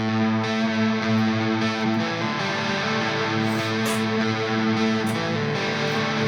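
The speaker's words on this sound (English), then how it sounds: "I like the reverb so far" Dense, distorted band music with sustained harmonic tones and a washy, spacious reverb tail, steady and loud throughout.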